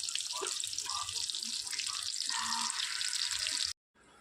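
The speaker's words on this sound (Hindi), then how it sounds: "और अब मैं आ गई थी बर्तन धोने" Tap water runs steadily into a kitchen sink while dishes are washed, a continuous splashing hiss with small clinks, close and alone, cutting off abruptly near the end.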